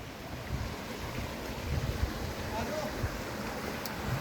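Clear water flows near a waterfall at Panjpeer Rocks, a constant broad rushing hiss with low rumbling gusts of wind against the microphone and a few faint knocks.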